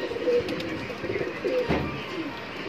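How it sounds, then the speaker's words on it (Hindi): Allahabadi pigeons coo softly in short repeated calls over a steady hum of background noise, close by and without voices. "सब उड़ाने के लिए है ये कबूतर।"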